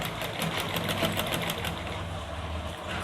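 Sewing machine stitching men's underwear fabric, running with a fast, steady mechanical rattle of needle strokes at close range, its rhythm holding constant over the few seconds.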